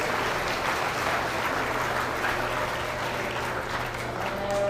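Audience at a beef cattle showmanship competition clapping for the young competitors, dense sustained applause filling the arena, loud and even throughout with a faint crowd murmur.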